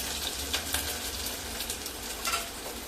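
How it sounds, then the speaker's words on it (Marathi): Kasuri methi and spices sizzling in hot oil for a tempering, a steady close frying crackle with a few sharper spits, no voices. "आता याची फोडणी तयार झालेली आहे"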